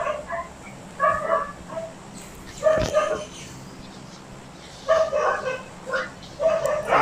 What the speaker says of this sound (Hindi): पीछे कुत्ता भौंक रहा है